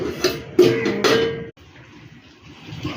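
A metal lid set onto a pan of cooking fish, giving a few quick metallic clanks and rattles in the first second and a half, then a soft, low simmering hush from the covered pan.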